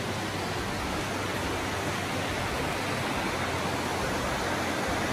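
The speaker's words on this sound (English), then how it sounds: "the creek, which is really nice." A creek flows outside a resort balcony in Gatlinburg, Tennessee, its steady, even rushing wash filling the whole stretch with no pause and no voices.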